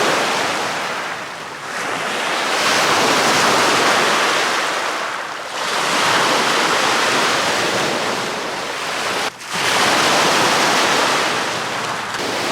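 Waves on a rocky Lake Superior beach: loud, broad surf surging in long swells that rise and fade over several seconds, close and alone with a gusty wind-like roar.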